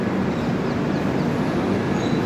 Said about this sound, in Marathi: हे आपण पाहत आहात जुनागड रेल्वे स्टेशन.